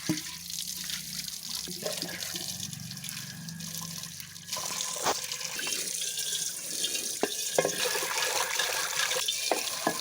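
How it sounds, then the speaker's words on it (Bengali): Pots and pans washed under running water outdoors, a steady close rush of flowing water with scattered clinks and scrubbing knocks of metal vessels throughout. "আমার পুতুলটা নিয়ে এখন সুন্দর করে হাড়ি পাতিলগুলো মেজে পরিষ্কার করে ধুয়ে দিচ্ছে"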